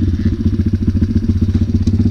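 A pit bike motorcycle engine runs on ice, a steady close, loud throbbing idle with rapid even pulses and no talk over it.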